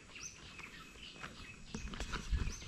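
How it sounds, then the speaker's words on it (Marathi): Birds sing faintly in the countryside around an agro-tourism farm, with thin scattered chirps over a soft low rumble and some nearby handling noise. "पक्ष्यांचे आवाज येत आहेत, मस्तच एकदम."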